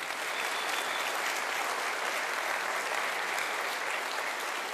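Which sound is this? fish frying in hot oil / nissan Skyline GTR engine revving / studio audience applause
studio audience applause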